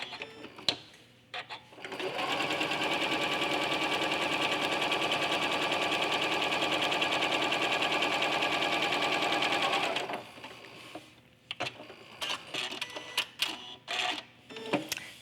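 A sewing machine runs continuous quilting stitches at stitch length 3 through layered fabric, a steady loud whirring hum for about eight seconds, with quieter clicks and handling noises before and after.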